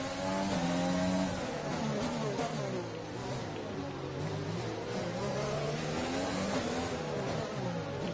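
F1 race car engines in F1 2020 at Monaco, high whining engine tones rising and falling through shifts as cars accelerate and brake, with faint commentary-like talk underneath.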